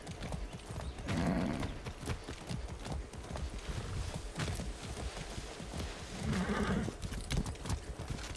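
Rhythmic hoofbeats of a horse in Far Cry 6 clip-clop steadily at a trot, with a couple of brief whinny-like bursts rising over the hooves.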